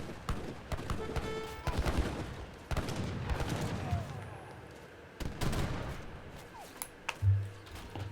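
Organ guns fire in an Age of Empires III battle, sounding as rapid bursts of gunfire and booming volleys mixed with other clashing battle noise, moderately loud and uneven.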